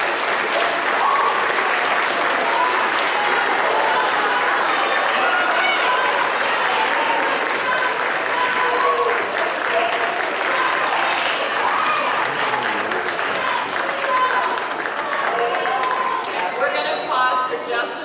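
Sustained audience applause fills a 6th grade awards ceremony, steady loud clapping from a crowd with a murmur of chatter underneath, tapering slightly toward the end.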